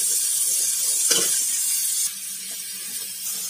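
Chopped onions frying in mustard oil in a wok: a steady close sizzling hiss that carries on alone throughout, briefly stirred partway through, then eases slightly quieter.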